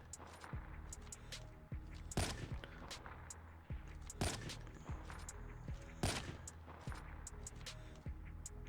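Sniper rifle shots from the Ur in Call of Duty ring out at a steady pace, about four sharp, loud cracks spaced roughly two seconds apart over a constant droning game background.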